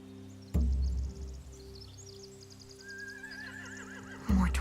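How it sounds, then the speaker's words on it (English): Horses whinnying in The Walking Dead: The Final Season video game, a long wavering neigh over ambient music, with deep low thuds at the start and end and faint hoof clatter. "They have horses."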